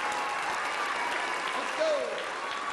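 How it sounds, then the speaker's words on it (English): Audience at a comedy show in Tennessee giving a sustained round of applause, a dense even wash of clapping with a brief whistle cutting through near the end. "Give them all three a big round of applause."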